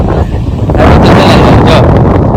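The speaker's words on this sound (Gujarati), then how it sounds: "પવન આવે છે અત્યારે બહુ" Strong wind buffets the microphone outdoors in a loud, continuous low roar that swells after the first moment.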